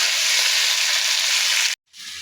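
Bay leaves and whole garam masala hit hot oil with a loud, steady sizzle that hisses continuously, then cuts off abruptly and resumes more quietly.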